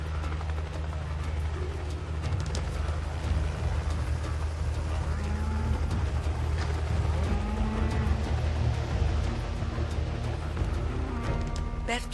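Cattle lowing on a vast Australian cattle ranch where cowboys muster herds by helicopter, the moos mixed into a steady rumble of engine or rotor noise and a busy outdoor din, with voices talking over it.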